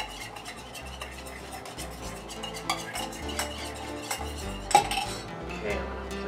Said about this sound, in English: we will make sure our ingredients are thoroughly mixed